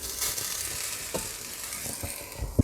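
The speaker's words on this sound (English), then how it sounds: "The Wowpats have been in the pan now for 12 minutes on low heat." Vegan Wowpat patties frying on low heat in a pan: a steady soft sizzle with occasional light scrapes and taps of a utensil, close and fairly quiet, with no talking.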